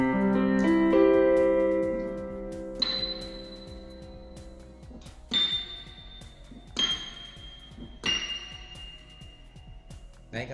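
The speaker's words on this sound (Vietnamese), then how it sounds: "Đây mình sẽ thêm reverb vào." Casio CDP-135 digital piano with reverb added: a sustained low chord fades, then single high notes are struck one at a time, each ringing out with a spacious wash of reverb.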